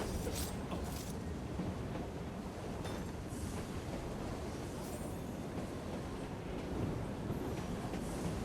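A train passes in the video game Assassin's Creed Syndicate, a dense continuous rumble and clatter of rail cars with occasional metallic clicks and creaks, loud and steady throughout.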